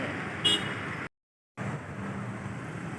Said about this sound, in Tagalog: Grabe, ang haba ng traffic.